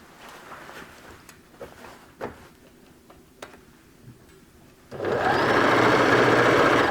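Sewing machine stitching the crotch seam of scrubs pants, a few faint ticks and handling clicks first, then a loud steady close whir of fast stitching running to the end.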